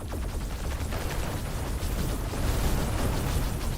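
Spaceship explosions in a space video game roar as one dense, continuous rumble with crackling bursts, steady and loud for the whole stretch, with no voices.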